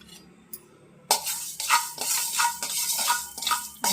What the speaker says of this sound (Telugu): ఒక స్పూను మెంతులు వేయించుకుందాం ముందు